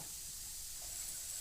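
Tomatoes and green chillies sizzle in a pan for pattani masala sundal, a brief, faint, steady hiss with no voices.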